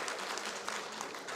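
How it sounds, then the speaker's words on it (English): Audience applause at an agriculture symposium in Grenada, a soft, fairly distant patter of clapping held at an even level for a brief moment, no voices on top. "Give him a round of applause for showing up, you know."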